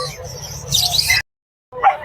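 An Eclectus parrot at a busy pet market gives a few short, harsh squawks and chirps at close range, with a brief silent gap between calls and faint background voices.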